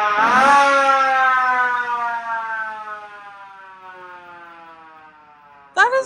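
A siren on a Jeep Gladiator winds down from a loud wail to a fading, falling tone over several seconds, then starts to rise sharply again at the end.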